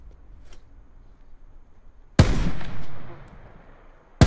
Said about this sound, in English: Those are the guys that are shooting at us.